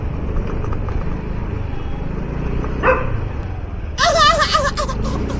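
A few sharp dog barks and yelps burst out near the end, over steady motorcycle engine and road noise.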